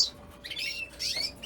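Male canaries in a home aviary sing in short, bright bursts of chirps and trills, two quick phrases close by against a quiet background.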